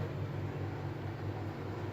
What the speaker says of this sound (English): Excuse the noise of the dishwasher in the background.